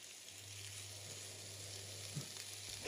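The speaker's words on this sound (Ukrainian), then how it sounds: "Зменшую вогонь, перемішую та смажу під накритою кришкою приблизно 10 хвилин" Chicken liver frying under a lid in a covered pan, a steady faint sizzle with a few soft pops, alone without voices.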